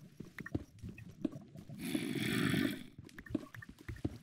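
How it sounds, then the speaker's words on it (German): A Minecraft zombie groans nearby in a single drawn-out, fairly loud moan lasting about a second, framed by soft clicking game footsteps and small thuds. "Zombie. So laut auch noch."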